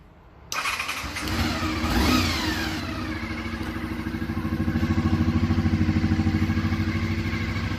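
A 1988 Honda NC24 VFR400R with gear-driven cams fires up with no fuel tank fitted, the engine catching abruptly, revving briefly, then settling into a loud, steady, close idle with a whiny, supercharger-like tone.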